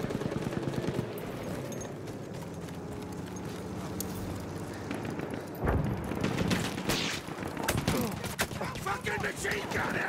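Battlefield 1 gameplay, with fairly faint bursts of machine gun fire and scattered shots mixed with galloping horse hoofbeats and battle noise in the background.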